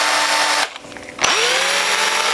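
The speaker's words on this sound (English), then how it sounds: "I'm going to use this really tiny bit to drill a vent." A small power drill with a tiny bit whines steadily drilling a vent hole in a plexiglass fishing lure, briefly cuts out, then spins back up with a rising pitch, close and loud.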